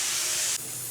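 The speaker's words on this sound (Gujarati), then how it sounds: "મેં કુકરમાં બટેટા બાફવા માટે મૂકી દીધા છે" A pressure cooker boiling potatoes gives off a loud, steady steam hiss that drops abruptly to a quieter hiss partway through.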